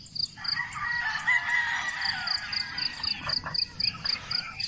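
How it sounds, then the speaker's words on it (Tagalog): Young roosters (stags) crowing in a farm yard, several hoarse, immature crows overlapping at moderate distance, with a constant background of chirping insects or frogs. "May mga tumitilaok na."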